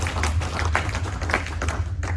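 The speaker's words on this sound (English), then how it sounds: "for Peter, round of applause." A short round of applause from the audience at a Gen Con talk on game history, a brief patter of scattered hand clapping over a low steady room hum.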